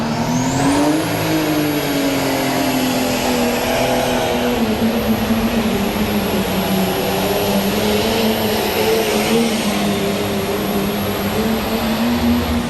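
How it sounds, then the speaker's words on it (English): Pro stock pulling tractor at a 1998 tractor pull finals in Louisville, Kentucky, a loud sustained engine roar with a high whine that climbs early then holds steady, continuous throughout with no talking. "Paul Wolf on the John Wilkins machine right here"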